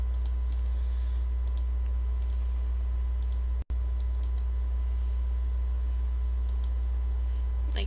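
A computer mouse clicks while editing in Sony Vegas: small clusters of crisp, close clicks spaced a few seconds apart over a steady low hum, with no talk.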